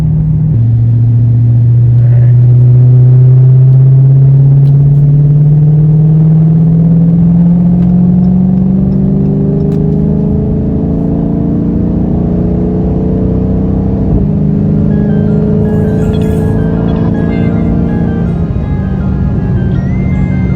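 A Dodge Charger Scat Pack's engine drones steadily from inside the cabin while driving, its pitch climbing smoothly through long revs and then stepping back down between gears, loud and continuous with no talk.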